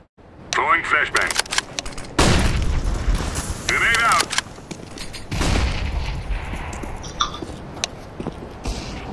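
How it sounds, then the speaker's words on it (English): In Counter-Strike on the Dust2 map, gunfire pops and a flashbang grenade bursts with sharp booming blasts amid game effects, while players talk over the action. "Throwing flashbang."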